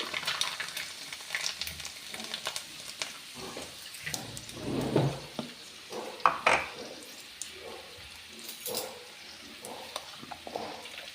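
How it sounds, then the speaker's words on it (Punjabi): Ajwain and mustard seeds crackle in hot oil for a tempering, soft irregular sizzles with pops and spoon or pan clinks, fairly faint and close. "ਤੜਕੇ ਵਾਸਤੇ ਤੇਲ ਹੋ ਚੁੱਕਿਆ ਗਰਮ ਇਹਦੇ ਵਿੱਚ ਜਮੈਨ ਤੇ ਰਾਈ ਥੋੜੀ ਜਿਹੀ ਐਡ ਕਰਤੀ"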